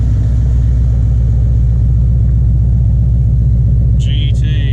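A ruby red Ford Mustang GT convertible with a 5.0 Coyote V8, VMP bolt-on belt-driven supercharger, about 750 hp and a six-speed manual, rumbles loudly and steadily at idle while someone talks over it.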